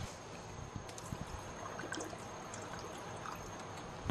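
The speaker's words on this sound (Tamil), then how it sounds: "இன்னும் நம்ம ஒரு 1/4 லிட்டர் போல் தண்ணி ஊற்றிக்கலாங்க." Water poured into a pot of drumstick leaves curry, a steady soft trickle heard quietly and continuously over faint kitchen background noise, with no talking.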